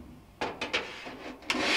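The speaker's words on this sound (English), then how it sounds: "We can reinstall our lint screen." A lint screen slides back into a Whirlpool dryer with a few short scraping rubs and a final push, close and brief, with no talking.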